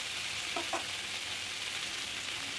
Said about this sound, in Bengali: আর দিয়ে দিচ্ছি এখানে কেটে রাখা ভেন্ডি বা ঢ্যাঁড়স, এবং সব কিছু দিয়ে ভালোভাবে আমি কিন্তু একটু নেড়ে নিচ্ছি